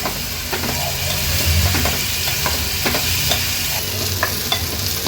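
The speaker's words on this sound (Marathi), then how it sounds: "रताळी आपण ह्या तुपावर घातल्यानंतर व्यवस्थित ह्याला एक ते दोन मिनिटासाठी हाय फ्लेमवर परतून घ्यायची आहे" Sweet potato pieces fry in ghee over a high flame, giving a loud, close, continuous sizzle broken by repeated stirring scrapes, with no voices.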